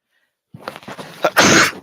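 A single sharp sneeze from a person indoors, close and loud, preceded by a brief inhale and quiet catch of breath after a moment of silence.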